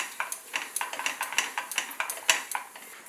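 A spoon stirs semolina (rava) as it dry-roasts in a pan, making quick, rhythmic scraping and clinking strokes, about four or five a second, soft and close with no other sound.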